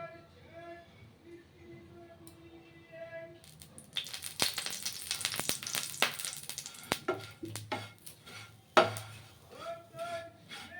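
Bread frying in a little oil in a pan, starting quiet, then a dense crackling sizzle with rattles and clinks of the pan and utensil, fairly close.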